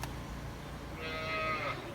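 A cow lets out a single drawn-out moo while cattle are loaded onto a truck, rising over a low background rumble near the end of the short stretch.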